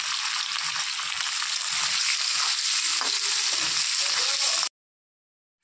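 Potatoes frying in hot oil left over from frying paneer, a steady, close crackling sizzle that runs unbroken for several seconds and then stops dead.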